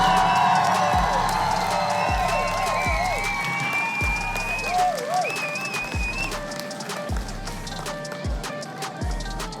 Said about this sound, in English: Let's go ahead and give it a round of applause